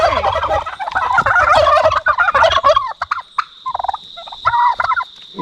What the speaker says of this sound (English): They're turkeys, royal palm turkeys